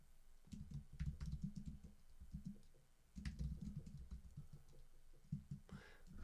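Typing on a computer keyboard at a creator event, bursts of quick, soft close-up key clicks with a brief pause in the middle.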